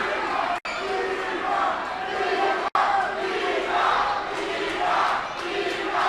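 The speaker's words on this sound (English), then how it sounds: "You hear the oohs and ahs from the crowd" A boxing crowd at the 2300 Arena in South Philadelphia roars, oohs and cheers in loud, continuous surges through a fight, packed and close, with brief cutouts.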